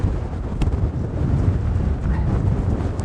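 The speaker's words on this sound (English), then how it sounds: "That is really windy." Strong coastal wind on the Isle of Wight coastal path buffets a cheap microphone, a continuous loud low rumble with gusty surges throughout, no speech.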